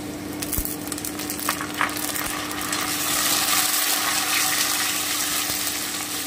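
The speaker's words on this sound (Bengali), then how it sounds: "এবারে আমি বেগুনটা দিয়ে দিচ্ছি" Eggplant frying in a pan, a steady close sizzle with faint stirring clatter that grows slightly denser partway through.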